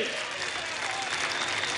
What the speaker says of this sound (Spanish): ¡Pido un aplauso para Delcy, mujer valiente,